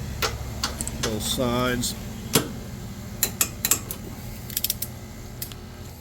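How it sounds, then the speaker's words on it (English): A torque wrench tightening bolts on a 6.0 L engine in a 2020 Chevy Express 3500 LS van, giving quick ratcheting clicks and scattered sharp ticks over a low mechanical hum, with a few words spoken partway through. "These I want to torque to 35 foot-pounds,"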